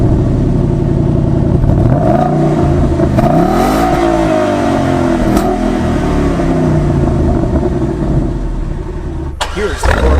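A Ford Mustang V8 revs hard with traction control off, loud and close: the engine note climbs and falls in sweeping rising and falling tones across several seconds, then cuts off abruptly near the end.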